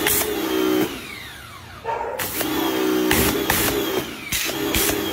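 A cheap handheld pressure washer used for cleaning cars and motorcycles runs with a steady motor whine and hissing spray, cutting off briefly and restarting several times in short bursts, loud and close.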